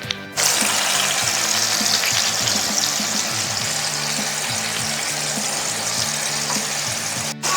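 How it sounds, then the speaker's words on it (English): Pork tenderloin searing in clarified butter heated to about 360 degrees Fahrenheit, a steady loud sizzle and crackle of frying with faint clinks, running unbroken and close for the whole stretch. "now I'm searing the other side of the pork tenderloin"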